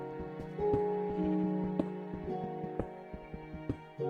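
Minecraft Beta background music, soft sustained tones with sparse plucked notes drifting at low volume, a quiet and calm ambient passage with no talk.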